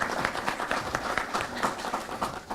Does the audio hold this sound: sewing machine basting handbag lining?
no